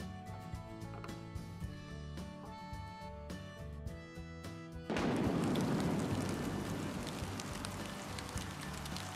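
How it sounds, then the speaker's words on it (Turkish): Steady rain patters down with a dense hiss that swells suddenly partway through, after a quieter stretch with a soft musical tone. "Dışarıda ne güzel yağmur yağıyor, değil mi oğlum?"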